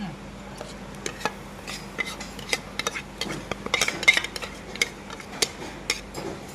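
A spoon stirs roasted ground coconut into a crab curry in a pan, producing a run of irregular metallic taps and scrapes, close and fairly quiet, with almost no talking.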